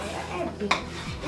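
A utensil stirs mashed potato in a metal pot, making a brief scrape and clink against the pan with soft mushy movement, close by.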